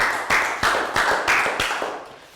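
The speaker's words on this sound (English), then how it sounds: "Round of applause for down." Year 3 math students in a classroom clap for a classmate in a loud, close, rhythmic round of about seven even, unison claps.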